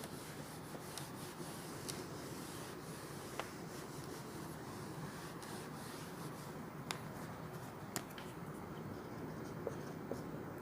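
Chalk or a marker on a board during a physics lesson, giving a faint, continuous scratching and rubbing with a few light taps over room noise.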